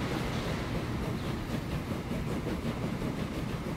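A train passing in the Transport Fever 2 video game gives a steady, dense rumble and clatter that holds at an even level throughout, with no voices.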